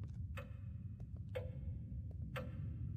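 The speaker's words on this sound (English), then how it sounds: "Just a clock. Just a fucking clock." A clock ticking in the horror video game The Lost Fear: three evenly spaced sharp ticks about a second apart, faint and alone over a low ambient hum.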